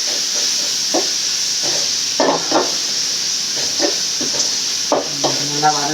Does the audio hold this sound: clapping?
no